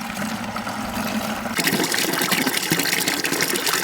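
Water from a gravity-fed system gushes into a 5-gallon bucket, a steady loud rush that swells sharply after a quieter opening as the flow comes on fully.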